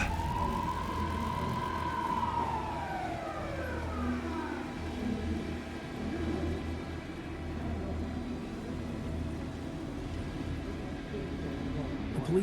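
A police car siren in Alan Wake 2 wails in a falling sweep, then fades into a low rumbling ambience over steady background noise.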